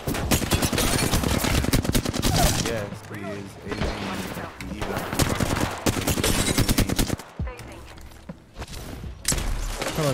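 Dense, continuous automatic gunfire from the video game Apex Legends, loud rapid bursts with brief gaps and thuds, running nearly nonstop while a player talks over it.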